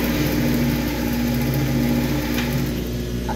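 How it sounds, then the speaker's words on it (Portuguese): An overlock sewing machine runs steadily and close by while stitching a zigzag seam on fabric for a child's shorts and blouse set, giving a continuous mechanical whir throughout. "E agora eu vou lá passar meu zigue-zague no overlock"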